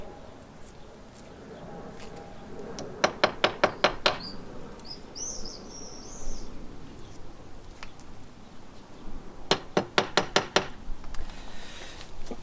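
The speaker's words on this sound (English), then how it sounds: "Having drilled the holes, we're now going to put the plugs in for the fixing screws for the body." Wall plugs are tapped into drilled holes in a wall for the fixing screws of a gutter diverter body. Two quick series of about five light, close taps are heard against faint outdoor background with some chirping.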